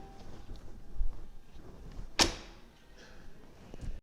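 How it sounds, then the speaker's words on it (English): A 2020 Mercedes-Benz G-Wagon G550 door shuts with a single sharp, solid latch thunk partway through, set against quiet background rumble with no talking. "the sound that the G-Wagon doors make when you open and close them"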